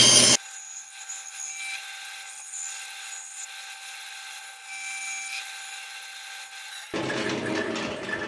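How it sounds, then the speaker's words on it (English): A bandsaw cuts a design out of a wooden piece. It starts with a loud burst, then a steady high whine carries through the cut, and a rougher, louder grinding rasp comes at the end. No one speaks. "cut this out on the bandsaw"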